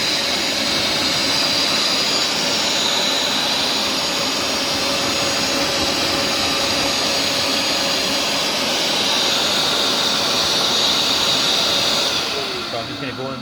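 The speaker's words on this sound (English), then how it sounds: "So I'm just going to go in like that, just sucking up all this grime and dirt" A Bissell SpotClean Pro sucks grime and dirt from a car floor mat in a steady, loud, close-up suction whine and hiss that continues throughout, then fades at the end.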